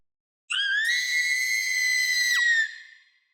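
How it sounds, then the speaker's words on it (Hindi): Girls' screams echo through a hospital as a horror-story sound effect: one sustained, high, shrill cry that starts abruptly, holds steady for about two seconds, then breaks off and trails into a fading echo, with no talking. "नामी, कीको और कुमी की चीखें पूरे अस्पताल में गूंजती हैं।"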